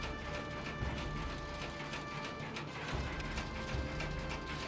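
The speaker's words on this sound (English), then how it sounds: "The net wrap system on Bellima stands out for simplicity and functionality." Krone Bellima round baler's net wrap mechanism running steadily, a continuous mechanical whir with gear and ratchet-like clicking throughout, loud and close with no talking.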